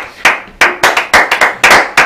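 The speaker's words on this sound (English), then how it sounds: "give me another round of applause for the good times" An audience claps loudly and close by in about nine sharp, separate bursts of uneven rhythm, with no talking over it.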